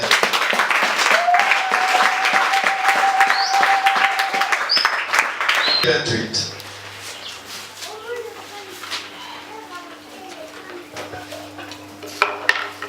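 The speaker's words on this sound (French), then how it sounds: "Mais applaudissez quand même." A crowd applauding in a church with dense, sustained clapping that fades out midway, leaving quieter room sounds and a low hum.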